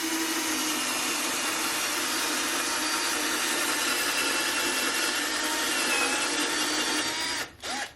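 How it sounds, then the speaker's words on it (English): Drill boring steadily into a 100-year-old wooden farmhouse door, a continuous loud whirring grind that holds for about seven seconds before briefly dipping at the end. "the easiest way to use this drill bit without a jig is to start straight up and down like this"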